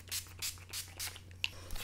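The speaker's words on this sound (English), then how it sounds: "Some more setting spray," Makeup setting spray misted in several quick short bursts, close and fairly soft, with faint handling noises after.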